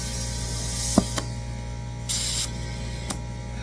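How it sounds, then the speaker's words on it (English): Compressed air blown through the valve stem of a small tire being mounted on a rim by hand, with short sharp hissing blasts, one longer burst, and a few metallic clicks of the nozzle, close and fairly loud. "We're gonna take your compressed air, put it right on the valve stem, press it in there, put air in it."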